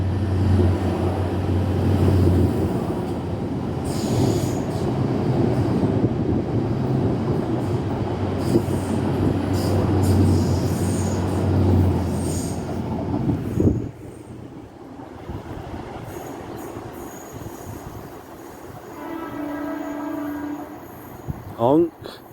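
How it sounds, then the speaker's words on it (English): A Great Western train near Oxford Station heading toward London rumbles loudly past on the rails, then fades, leaving quieter ambience with a tonal horn-like sound near the end. "we have a train, one of Great Western's heaps of junk,"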